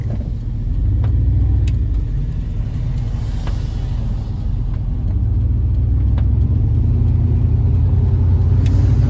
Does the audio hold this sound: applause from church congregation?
no